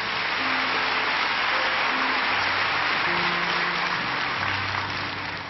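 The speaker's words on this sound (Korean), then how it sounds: "우리 박수로 환영하겠습니다." A church congregation applauds to welcome a guest elder to the pulpit at an early-morning prayer service, a dense, steady wash of clapping from many hands that fills the room throughout.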